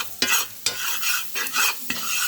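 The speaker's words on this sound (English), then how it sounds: "We're going to mix that up right in there." Spoon stirring flour into onions and garlic cooking in a pan, repeated scraping strokes with soft clinks over a gentle sizzle, close and quiet, no one speaking.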